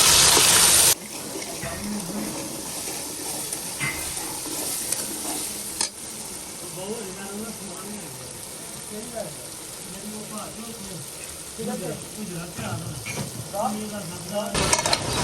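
Potatoes, onions and meat stirred and frying in a pot give a steady sizzle with scraping stir strokes, and a voice talks over the cooking throughout.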